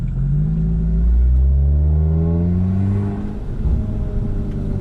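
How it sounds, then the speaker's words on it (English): A 500 WHP Audi S3 pulls hard with its turbo spooling, the loud engine note rising smoothly through a gear, then dropping briefly at a shift before climbing again close to the microphone. "this car makes all the right turbo sounds"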